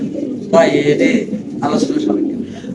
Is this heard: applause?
no